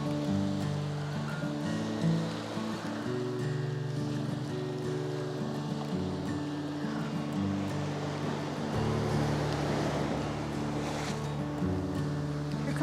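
Ocean surf and an incoming tide at Moshup Beach, a steady broadband wash of waves heard close and continuous, with a low rumble running underneath.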